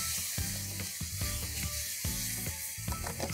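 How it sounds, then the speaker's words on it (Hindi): Blended tomatoes fry with spices in a pan, a close, steady sizzle and hiss punctuated by repeated soft clinks and scraping stirs at an irregular rhythm, with no talking. "इसको अच्छी तरह भून लीजिए"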